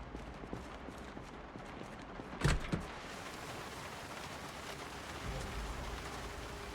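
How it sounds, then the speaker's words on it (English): Steady rain in the video game Project Zomboid, a soft, even hiss heard from indoors, with a brief louder knock or thud partway through and a low rumble near the end. "The rain sounds so comfy when you're inside."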